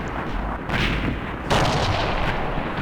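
FV304 self-propelled artillery gun firing in a tank video game: two heavy booming shots roughly a second apart, each followed by a rolling rumble, with no talk.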